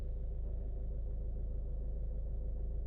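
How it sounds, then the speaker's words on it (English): A cheap, high-mileage Ford car engine idles smoothly, a low, even rumble held steady for a few seconds with no other sounds. "as you can tell, it is purring away totally fine"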